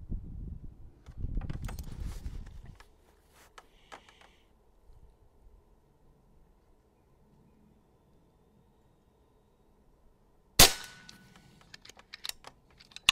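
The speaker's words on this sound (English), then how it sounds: "You do have to shoot air rifles in the wind." A .22 caliber Niksan Ozark pre-charged pneumatic air rifle fires a single sharp crack outdoors in wind, followed by a few faint ticks, after a long quiet stretch with wind rumble at the start.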